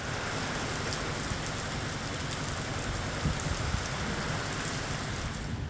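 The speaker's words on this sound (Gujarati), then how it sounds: "પૂર્વમાં ઓડિશામાં પણ વરસાદી માહોલ સર્જાયો છે" Heavy rain pours steadily in Jajpur, Odisha, a dense, even hiss of drops striking surfaces for the whole stretch, with a few slightly louder splashes and no voices.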